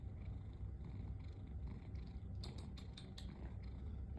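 A cat purrs steadily and close up in a quiet bedroom in the morning, a continuous low rumbling throb with a few faint higher clicks partway through.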